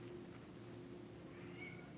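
A single faint cat meow, rising and falling briefly near the end, over a quiet indoor hum.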